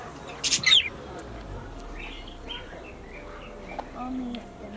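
Birds call at a riverside campsite near Llanidloes, with a quick burst of sharp chirps early on followed by softer, scattered calls over a low ambient background.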